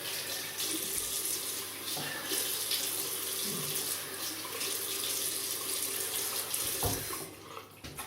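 Water runs steadily from a tap into a sink, a constant fairly quiet hiss and splash while a face is wetted before shaving with Arko shaving soap, with no talking over it.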